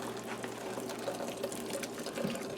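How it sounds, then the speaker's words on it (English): Cooked Dutch hutspot pours into a strainer to drain, a steady close rush of liquid running through for a few seconds. "I'm going to be pouring the Hutspot, I think that's how you say it, into this here to drain it"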